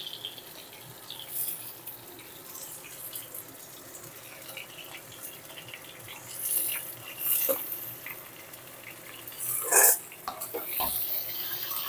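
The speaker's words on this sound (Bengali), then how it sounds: "সবজিগুলো তুলে দেওয়ার পর আমি ৪ থেকে ৫ মিনিট ভেজে নেব" Mixed vegetables frying together in a pan for a vegetarian mixed veg dish, a steady soft sizzle and hiss running throughout, with a few louder clatters and bursts near the end.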